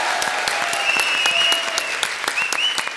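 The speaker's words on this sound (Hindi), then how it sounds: "अदनान सामी और भारती के लिए जोरदार तालियां" Studio audience applause and cheering on a Hindi TV comedy show, a steady, full wash of clapping filling the whole stretch, with whistles rising above it.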